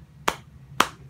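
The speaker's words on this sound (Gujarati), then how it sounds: "Clap your hands." Two single hand claps about half a second apart, sharp and fairly close, standing alone over a low background hum in a classroom setting.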